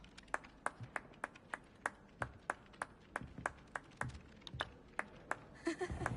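A character in Hogwarts Legacy claps steadily, about a dozen sharp, evenly spaced claps over several seconds at moderate loudness, with a brighter chime-like tone at the very end.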